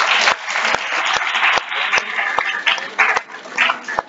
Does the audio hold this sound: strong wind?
no